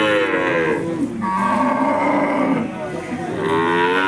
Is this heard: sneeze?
no